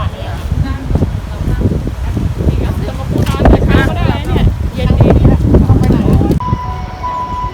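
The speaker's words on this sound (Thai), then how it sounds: "ลมเย็นดีอ่ะ" Cool wind gusts buffeting a microphone outdoors on a Taiwan trip, a steady loud rumble filling the whole stretch, with people talking underneath.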